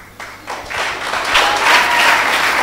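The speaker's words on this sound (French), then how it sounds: "Ça mérite vraiment des applaudissements." Audience applause swells after a speech, a dense wash of clapping that starts thin and builds to a steady, fairly loud roar for the rest of the clip.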